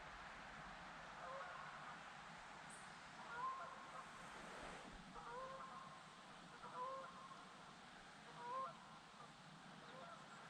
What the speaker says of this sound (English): Those geese are probably leaving the corn.